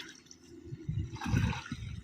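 Water splashes and gurgles as it is poured into the tank of an agricultural drone sprayer in a field, a soft rushing pour that swells in the middle before easing off.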